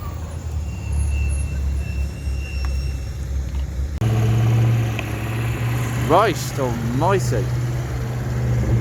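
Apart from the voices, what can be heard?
modified car engine with raspy exhaust at a show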